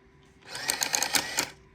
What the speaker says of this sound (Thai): คราวนี้ผมพิมพ์ต่อเนื่องนะครับ